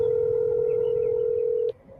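A steady telephone dial tone holds for nearly two seconds on an unanswered call, then cuts off abruptly, leaving faint low background noise.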